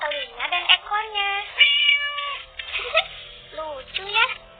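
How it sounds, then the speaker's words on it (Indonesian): A pet cat meows close and loud in a string of drawn-out, wavering cries with short pauses between them, with nothing else behind them. "Ini dia, kucing peliharaan Alfa."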